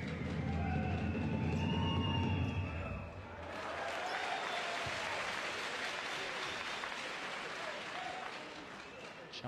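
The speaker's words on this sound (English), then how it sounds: "Round of applause as Maho Barzik goes out" A basketball arena crowd applauds during a Champions League game between EWE Baskets Oldenburg and UCAM Murcia, with steady, moderately distant clapping and arena noise, while a commentator talks over it.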